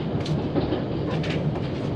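A train rolls steadily on rails, a loud, close, continuous rumble with faint rhythmic clatter of wheels over track joints, and no voices.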